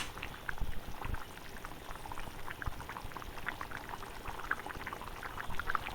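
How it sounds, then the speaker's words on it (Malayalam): Paneer curry bubbles at a steady boil in a pan, with dense wet popping and gurgling that runs continuously from start to finish, close by and with no voices over it. "അപ്പോൾ അതാ നന്നായി തിളച്ചു തുടങ്ങിയിട്ടോ നമ്മുടെ കറി"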